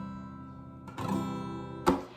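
Acoustic guitar strums a simplified one-finger chord for Happy Birthday: a soft brush around a second in, then a firmer strum ringing out close and quiet, no talk.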